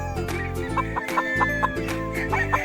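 Boston Gilmore gamefowl clucking at a game farm in Bulacan, a close, loud run of short repeated clucks in a quick, uneven rhythm.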